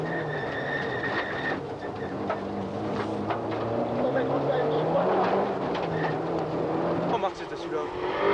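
A Ford Cosworth rally car on a 1992 Rallye des Hautes Fagnes stage makes a rising, changing engine note with gear shifts and gravelly road noise. Someone talks over it in commentary.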